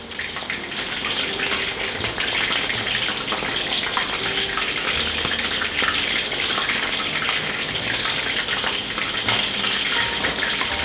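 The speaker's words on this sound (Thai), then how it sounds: "แล้วทีนี้ก็ทอดให้เหลืองกรอบเลยครับ" A constant crackling sizzle of skewered chicken deep frying in hot oil until golden and crisp, busy and steady, with faint clinks now and then.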